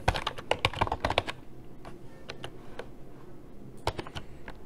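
Someone types a first and last name into an online sign-up form on a computer keyboard, giving crisp close key clicks in quick bursts with a short pause in the middle and no voices.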